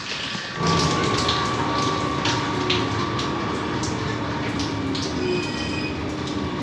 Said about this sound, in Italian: E questo è già il secondo treno